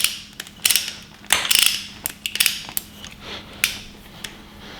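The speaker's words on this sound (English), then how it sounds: "such a big torque wrench for such a little job" A torque wrench ratchets in quick bursts of sharp metallic clicks while cranking down a bolt on a 5.7L Hemi engine being assembled, the clicking close and crisp with short pauses between strokes.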